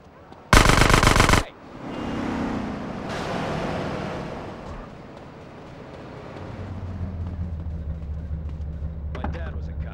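Gunfire in the video game GTA San Andreas: a loud, rapid automatic burst lasting under a second, followed by rumbling engine and traffic noise and game voices talking.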